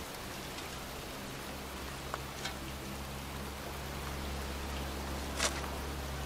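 Steady rain falls in the video game Heavy Rain, a soft continuous hiss with a low rumbling undertone and a few faint isolated drips, with no voices.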